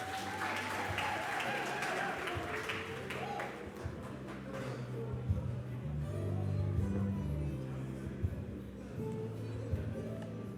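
A crowd at a Free State small business and co-operatives dialogue claps for Ntate Nuku, moderate applause in the first few seconds that thins out into room noise and murmuring voices.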